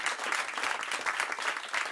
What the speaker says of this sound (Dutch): Ja, applaus.